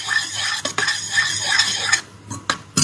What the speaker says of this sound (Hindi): तो ये गाय के घी में अच्छे से जब इसको सेक लेते हैं ना, सारी चीज़ों को भून लेते हैं